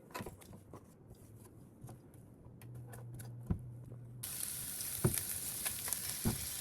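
Onions sizzle in a hot pan for an omelette with cottage cheese, a steady quiet crackle joined by occasional scrapes and taps, and the frying hiss swells louder partway through.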